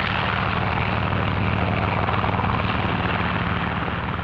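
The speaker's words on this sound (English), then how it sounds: "Also taking off from the carrier are control planes that will guide the radio-controlled drone boats." Aircraft engines drone steadily as control planes take off from an aircraft carrier during the 1946 Operation Crossroads tests at Bikini, a loud, continuous roar with no break.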